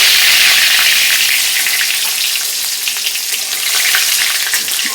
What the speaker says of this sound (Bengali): আর এই তেলেই আমি দিয়ে দিব 1 টেবিল স্পুন পাঁচফোড়ন আর তেজপাতা।